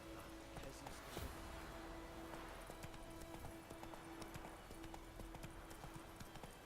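Hooves of Roach, a horse in The Witcher 3 video game, clip-clop in a steady walking rhythm over a continuous game soundscape, with no talk.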